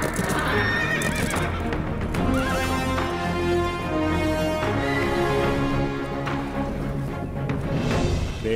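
Movie scene with horses whinnying and neighing over rhythmic clip-clopping hooves, loud and busy with music layered underneath, no speech.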